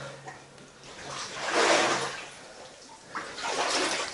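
Someone wading through knee-deep water in an old, partly collapsed tunnel, with the water sloshing and churning in two surging swells under a faint background hiss.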